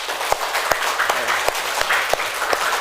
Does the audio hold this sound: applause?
yes